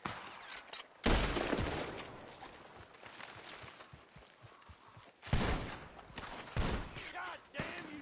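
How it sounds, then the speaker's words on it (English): Gunfire in the video game Red Dead Redemption 2: loud bursts of shots break out around one second and again near five and seven seconds, with scattered thuds between and voices shouting over the fight. "The gunshots are coming from..."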